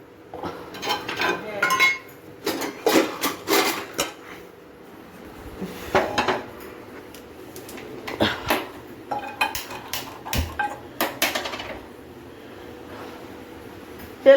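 A small kadai pan and other metal kitchenware clink and clatter in a home kitchen before papad is fried, giving repeated light metallic knocks and scrapes at close range with quiet pauses between them.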